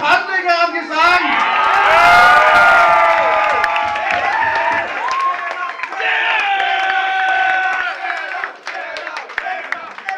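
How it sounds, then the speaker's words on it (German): A concert audience at a youth-centre punk show cheers, whoops and claps continuously. Loud, dense applause fills the space, with shouts rising and falling throughout. "zum Schluss nochmal einen Applaus"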